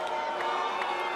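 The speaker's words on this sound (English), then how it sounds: "you can hear this crowd getting more and more disgruntled" Home crowd at a women's volleyball match in Istanbul, Fenerbahce hosting VakifBank in a Champions League game, a dense, steady arena murmur of many voices with restless, disgruntled rumbling, loud and continuous without a clear single voice.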